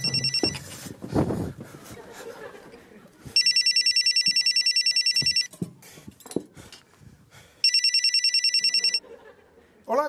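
Mobile phone ringing with a repeating electronic ringtone in two loud bursts, someone talking and moving about near the phone between the rings.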